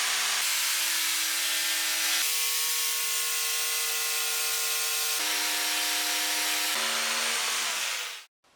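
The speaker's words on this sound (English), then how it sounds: "I place the front of the base firmly on top of the rod, and I start cutting the wood rod." A jigsaw cuts through a wood rod with its base pressed on top, a steady loud buzzing saw stroke running continuously for about eight seconds before stopping abruptly, with brief pitch shifts along the way.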